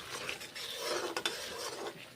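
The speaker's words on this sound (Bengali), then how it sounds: "এইভাবে মশলার সঙ্গে পেঁপে ভাজাগুলো কষে নিচ্ছি নেড়ে চেড়ে" Fried papaya pieces being stirred with spices in a pan: quiet, close scraping and shuffling of a spoon against the metal over a faint sizzle, with no one speaking.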